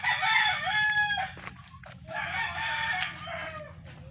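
A rooster crows nearby, loud and clear, with two drawn-out calls separated by a brief pause over a low, steady background rumble.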